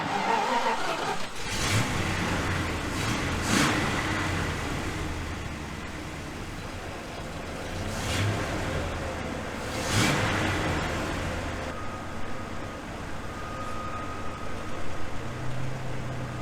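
A 1979 Dodge D300 truck, abandoned for over twenty years, idles steadily with its hydraulic pump engaged, a continuous mid-pitched engine drone with a few sharp knocks and clanks rising above it.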